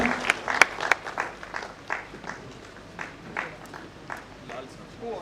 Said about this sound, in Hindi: आप लोग उनका तालियों से स्वागत करें।